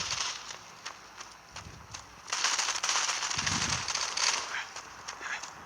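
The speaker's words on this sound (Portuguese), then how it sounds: "Você só escuta os tiros." Rapid bursts of gunfire in the mobile game Modern Combat 5 crackle throughout, growing denser and louder midway, with a voice murmuring briefly underneath.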